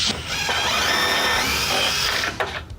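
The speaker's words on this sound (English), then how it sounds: "I can pre-drill that first hole" A power drill whirs at a steady high pitch while pre-drilling a hole for a fastener during a top track installation, running continuously for a couple of seconds before winding down.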